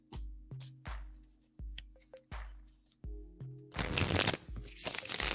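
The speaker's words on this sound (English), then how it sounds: "All right, shuffling for Michael S" Tarot cards are shuffled by hand in a quick series of crisp riffles and slaps, about a dozen bursts, with the final ones louder and denser, and no talking over them.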